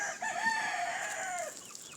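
A young rooster crows once, a slightly thin, wavering cock-a-doodle-doo that rises and trails off, fairly close and clear.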